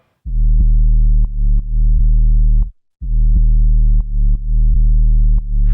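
A deep, steady sub-bass synth tone in Ableton Live drones in two long sustained notes split by a short pause, with faint clicks at regular intervals. It is loud and up front.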